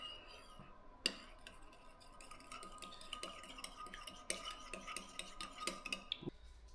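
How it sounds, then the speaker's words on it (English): Fish pieces with ground ginger stirred in a pan, a spoon scraping and clicking against the metal in a steady run of light taps and clinks, close and fairly quiet, with no talking. "And we're gonna stir that up."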